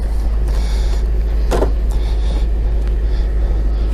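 A 2001 Audi S6 boot opens with one brief mechanical release and lid movement, standing out against a steady low engine or ventilation hum.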